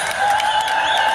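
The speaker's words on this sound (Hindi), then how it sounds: "जोरदार तालियां" A crowd at a World Adivasi Day gathering in Dungarpur applauds loudly, a dense continuous wash of clapping filling the whole moment.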